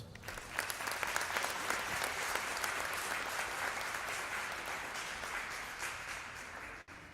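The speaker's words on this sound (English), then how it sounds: "If we can please give them a round of applause." A room full of people applauds scholars at an International Day of the Seafarer event, a dense and steady wall of clapping that holds for several seconds before tapering slightly at the end.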